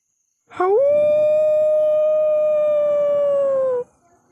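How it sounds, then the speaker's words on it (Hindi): A single long, sustained howl from a jackal or dog, rising sharply at the start and then holding a steady, loud tone for about three seconds before stopping abruptly. No voices are heard. "सियार या फिर कुत्तों का रुदन अब और भी तेज बढ़ता जा रहा था।"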